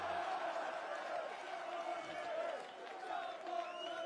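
A crowd at the PDC Belgian Darts Open 2022 semi-final keeps up a steady, loud roar of cheering and chanting, and a voice sounds faintly within it.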